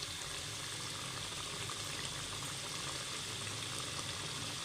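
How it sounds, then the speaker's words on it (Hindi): Meat and onions for achar gosht sauté in a pan, giving a faint, even, continuous sizzle with no distinct stirring strokes and no voices. "अब हम इसको अच्छे से भूनेंगे तकरीबन 5 से 6 मिनट तक"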